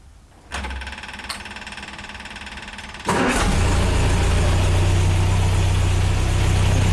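An MGA sports car engine cranks briefly, then catches at about three seconds and settles into a loud, steady idle that runs to the end.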